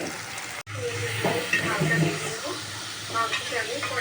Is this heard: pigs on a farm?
no